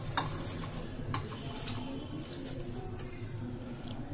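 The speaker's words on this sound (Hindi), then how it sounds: "और पकौड़ियों को हम मिक्स करके अच्छे से और इसे पकने के लिए ढककर रख देंगे।" Chana dal pakoras being stirred into a simmering gravy, a steady low bubbling with soft scraping and sizzle-like hiss continuing evenly throughout, close and moderately quiet, with no talk.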